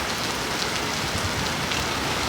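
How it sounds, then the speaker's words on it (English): Rain falls steadily outside, an even, unbroken wash of drops hitting surfaces, close and constant from start to finish with no voices. "touch the rain."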